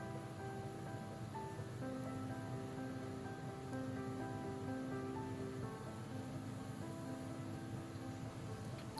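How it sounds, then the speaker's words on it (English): Tofu for Mapo Tofu is stir-fried in a pan, giving a faint, continuous, even sizzle that holds steady throughout, with a soft tonal hum underneath. "When stirring up the tofu, make sure you stir from the bottom up."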